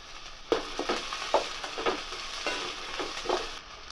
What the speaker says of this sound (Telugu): ఇవన్నీ కలిసేలాగా ఆ విధంగా వేయించుకోవాలి